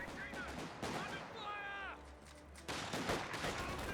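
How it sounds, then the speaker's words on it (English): Bursts of small-arms fire in the video game Company of Heroes 2, crackling shots and rattles mixed with whistling tones and game effects, with a voice talking over them. "Grenadiers receiving a bit of fire"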